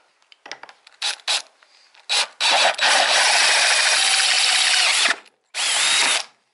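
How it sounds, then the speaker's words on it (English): Power drill boring out holes in a motorcycle sprocket for a Honda VFR800 project, with short whirring bursts that build into a long, loud, steady grinding run, then a final burst, close up and with no talk. "So just drilling out this sprocket, jacked it up."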